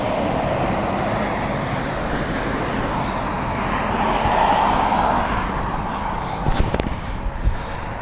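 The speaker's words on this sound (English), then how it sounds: "we've got Barcelona flight inbound now. This is the Airbus A320, BA flight" British Airways Airbus A320 arriving from Barcelona at Heathrow Airport, a steady broadband jet roar that swells gradually to a peak midway and stays loud, with brief knocks and handling noise near the end.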